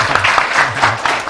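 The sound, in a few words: applause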